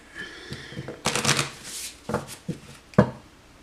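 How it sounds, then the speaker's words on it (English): A deck of cards shuffled for a reading: several quick riffling bursts and soft slaps up close, a louder riffle near the middle and a sharp final tap, with no talk. "Okay, one more shuffle."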